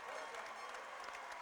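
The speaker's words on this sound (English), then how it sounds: "And a standing ovation for the players here" A basketball arena crowd gives the players a standing ovation, with dense, sustained clapping and scattered cheers filling the space for the whole stretch.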